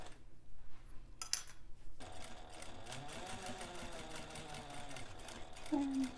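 A sewing machine stitches an interior slip pocket for a bag: a short burst of stitching, a pause, then a steady close run of rapid mechanical clatter with a rising whir, alone without talk.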